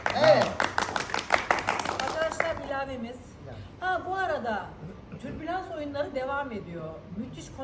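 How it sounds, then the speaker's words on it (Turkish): Audience applause at a Turkish theatre play event, a burst of clapping at the start that fades as voices and laughter take over. "Alkışlıyoruz."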